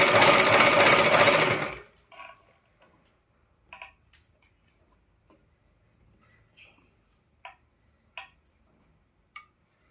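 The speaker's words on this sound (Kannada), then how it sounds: "ಮೇಲ್ಗಡೆಯಿಂದ ಈ ರೀತಿ ಹೊಲಿಗೆ ಹಾಕ್ಕೊಳ್ಳಿ. ಎಡ್ಜಿಗೆ ಹೊಲಿಗೆ ಹಾಕ್ಕೋಬೇಕು." A sewing machine stitches along the edge of a puff sleeve, running loud and steady for about two seconds, then falls quiet apart from a few sharp ticks and taps.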